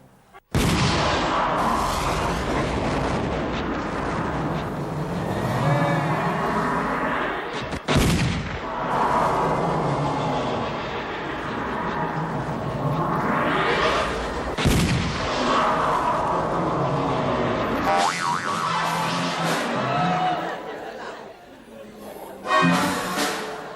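Loud gunshot and explosion effects boom through a Matrix parody skit on a Thai TV variety show, with sharp bursts standing out over whooshing, sweeping effects and a sustained, noisy background.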